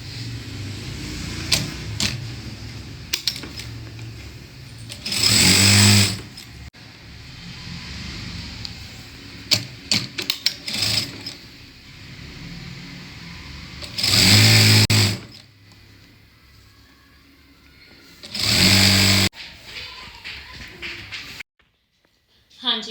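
Sewing machine stitching buckram onto salwar cloth, running in three loud bursts of a few seconds each with quieter handling and room sounds between.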